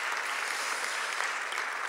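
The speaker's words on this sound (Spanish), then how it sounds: "recibamos con un fuerte aplauso a la doctora Jorgelina Barrios de Tomasi" Strong applause from an audience welcoming a scientist at a book presentation, dense even clapping that holds steady for a couple of seconds.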